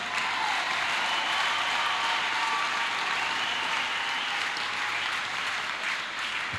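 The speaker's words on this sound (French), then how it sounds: "Can you give the Lord a better clap offering for this wonderful miracle?" A church congregation breaks into sustained, dense applause, a crowd clapping loudly and evenly from start to finish to praise a healing from mental disorder.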